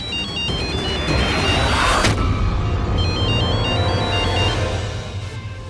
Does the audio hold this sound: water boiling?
no